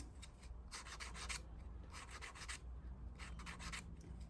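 Soft leather for a tally book cover gets light sanding with 400 grit sandpaper: three close, quiet bursts of quick back-and-forth rubbing strokes, each with short pauses between.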